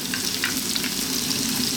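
Sliced onion sizzles in hot oil alongside garlic and celery, a steady dense frying hiss with faint stirring scrapes, close and continuous.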